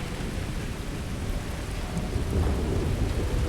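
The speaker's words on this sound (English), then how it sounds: "Dark and stormy night." A heavy thunderstorm in Starfield at night, with dense, steady rain and a low rumble of thunder that swells louder toward the end, and no voices over it.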